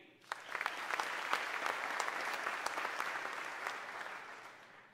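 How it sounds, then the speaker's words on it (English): An audience applauds officials being introduced at the Mississippi State of the State address, a dense round of clapping that starts suddenly, holds steady for about four seconds, then fades out. "Please hold your applause until all have been introduced."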